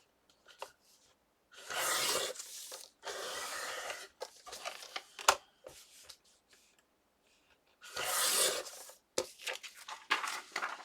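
Paper being trimmed for a handmade accordion-style Christmas booklet, heard as several bursts of dry slicing and rustling separated by short pauses and small taps, close by and moderately loud with no talking.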